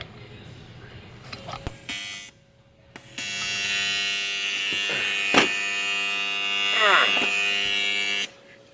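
Electric welding next to a car, a loud steady buzzing hum that starts after a few short bursts and holds for about five seconds, with a brief crackle partway through.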